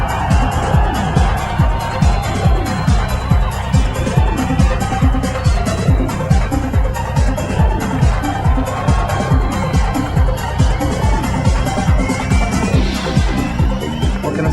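A full-house boxing arena crowd at a Naseem Hamed fight produces a loud, continuous roar with dense, rhythmic clapping or stamping pulses throughout, steady from start to finish.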